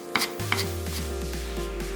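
Perilla leaves being sliced into thin strips with a knife on a cutting board, giving a couple of sharp taps and then a quick, even series of light chopping strokes over a steady low kitchen hum.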